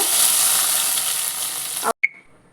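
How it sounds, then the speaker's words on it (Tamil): Garlic, curry leaves and dried red chillies frying in oil for a fish curry tempering give a loud, steady sizzle for about two seconds. It cuts off abruptly and is followed by a small clink. "உள்ளி கருவேப்பிலை சிவப்பு வரமிளகாய் சேர்த்துக்கோங்க எண்ணெயில் நல்லா பொரியட்டும்"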